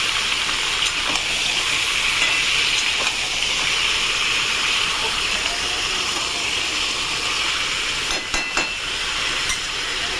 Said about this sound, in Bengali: চিকেনগুলো আলুর সাথে একবারে ভেজে নেবো